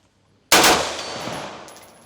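A single loud gunshot at a shooting range at the Cu Chi Tunnels in Vietnam cracks sharply after a short silence, then its echo rings and slowly decays across the open range.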